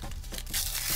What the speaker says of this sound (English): I'm just gonna rip this thing open. An envelope within an envelope.